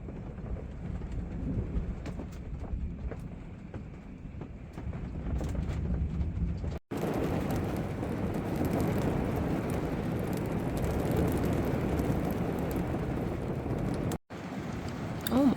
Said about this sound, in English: This is like the beginning of the rain too. Like it is coming down hard.